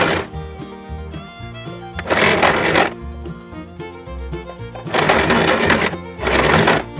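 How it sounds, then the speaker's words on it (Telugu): An old towel's sides being stitched on a sewing machine, heard as two loud buzzing bursts of rapid stitching over steady background tones, with quieter stretches between them. "మనం మిషన్ ఉంటే మిషన్తో కుట్టుకోవచ్చండి"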